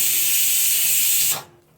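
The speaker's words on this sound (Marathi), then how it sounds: "कुकरची शिट्टी होत आहे." A pressure cooker whistles loud and close, a steady high steamy hiss while mutton curry cooks, then cuts off abruptly near the end, leaving quiet.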